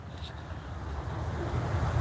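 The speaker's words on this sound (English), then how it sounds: "It's kind of windy out here this morning." Morning wind blows outdoors at a woodland camping festival, a rushing, buffeting noise against the microphone that builds slightly over the short stretch.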